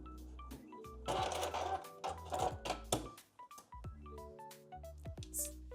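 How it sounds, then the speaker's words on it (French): A sewing machine stitching a dart in jersey fabric for trousers, with bursts of rapid mechanical running interrupted by short pauses and clicks, close and fairly quiet. "Soit je fais un point sur place, comme celui que j'ai ici sur ma machine"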